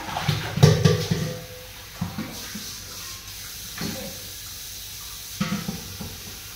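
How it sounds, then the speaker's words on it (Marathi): Tap water running into containers stored for cooking, a hissing flow broken by clunks and knocks as vessels are handled, no talk. "पाणी भरून ठेवते स्वयंपाकासाठी"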